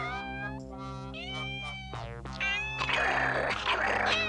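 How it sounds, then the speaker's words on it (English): Cartoon cat meowing, with a run of bright, wavering tonal cries that rise and bend over a low humming music bed, followed by a noisier, rougher yowl toward the end. "I hear the little kitty cat."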